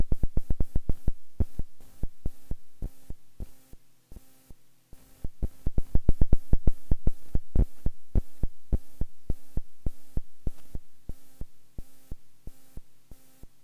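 Oberheim OB-X synthesizer voice 1 sounding during calibration as a pulsing series of short low tones, irregular thumping beats with a droning hum underneath, alone and fairly clear.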